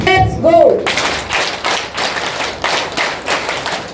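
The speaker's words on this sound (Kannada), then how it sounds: "ಮಕ್ಕಳು ಎದ್ದು ನಿಂತು ಕೈ ಎತ್ತಿ ಚಪ್ಪಾಳೆ ಕೊಡೋದ್ರ ಮೂಲಕ ನಮ್ಮ ಕೃತಜ್ಞತೆಗಳನ್ನು ಸಮರ್ಪಿಸೋಣ" Standing students at a Bharat Scouts and Guides event for SSLC and PUC pupils clap together in a steady rhythm, sharp and close, after a brief opening of voices.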